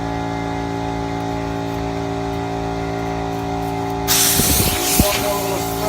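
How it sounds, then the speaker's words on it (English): A spray bottle gives a short run of close, hissing spritzes during a wooden stave drum glue-up. The bursts start after a steady background hum and last about two seconds. "One more little spray."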